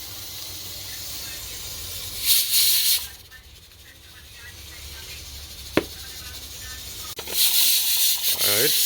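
Loud, steady steam hiss from a pressure cooker holding peas cooked with coconut milk for rice and peas, in two bursts separated by a quieter stretch with a single sharp click.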